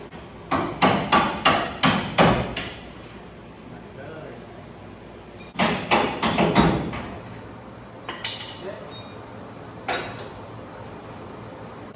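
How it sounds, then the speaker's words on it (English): Heavy hammer blows strike a square-body truck's suspension while it is being lowered, loosening U-bolts: two rapid bursts of about six sharp metallic whacks each, then a few single hits, close and loud, with workshop background noise. "Now we need a hammer."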